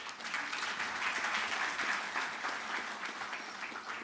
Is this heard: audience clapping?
yes